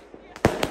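Firecrackers set off in a forest: two sharp, loud bangs close together, the first stronger, over a faint outdoor background.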